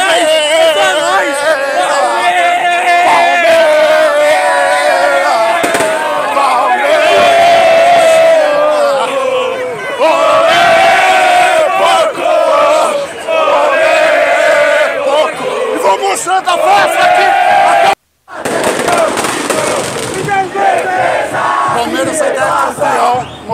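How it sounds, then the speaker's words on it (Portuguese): Palmeiras supporters at the Palestra Italia sing and chant loudly in unison while celebrating the club's tenth league title, a sustained roaring crowd with shouts and a brief cut near the end. "Torcida que canta e vibra."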